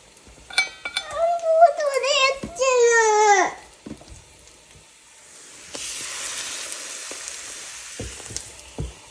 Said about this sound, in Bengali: এইভাবেই আমি সব বড়াগুলো ভাজা করে নেব